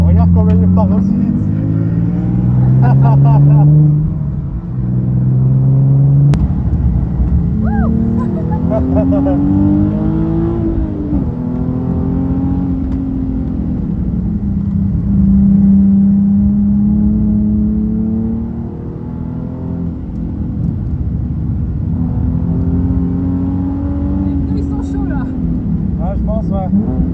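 A Nissan 370Z Nismo on a trackday at Croix-en-Ternois circuit roars loudly and close, its engine climbing and dropping through revs and gear changes, with people talking over it.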